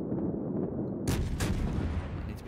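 Naval guns of a Tier 3 UK cruiser in a warship video game fire, a single deep booming blast that breaks in over a low rumbling engine drone and lingers as heavy rumble.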